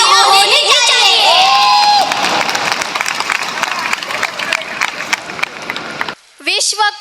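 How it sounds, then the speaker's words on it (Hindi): Crowd at a Shivaji Maharaj coronation anniversary event in Nepal claps and cheers loudly for several seconds, with shouting voices mixed in, before the noise drops away and a short burst of talk follows. "आप सब इस कार्यक्रम के लिए आए हो तो खुद के लिए जोरदार तालियां होनी चाहिए।"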